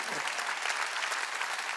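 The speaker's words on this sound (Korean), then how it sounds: "박수자." A church congregation claps together during a Wednesday worship service, a bright, continuous wash of many hands held at a constant, fairly loud level.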